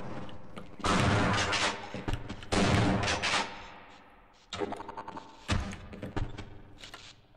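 Bursts of rapid gunfire crackle in loud clusters in the video game Half-Life, pausing between volleys, with dense echoing shots and no talking.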